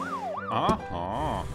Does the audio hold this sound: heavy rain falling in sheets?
no